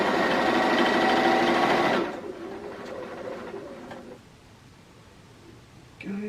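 Sewing machine stitching across the edge of a quilt, a loud steady mechanical whir for about two seconds that then stops, leaving faint background sounds.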